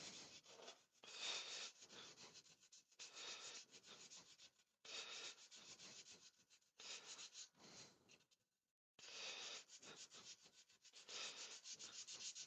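Gentle hand sanding on a woodturning piece to rub out small dinks: repeated soft, close rubbing strokes in bursts separated by brief pauses, with no talking.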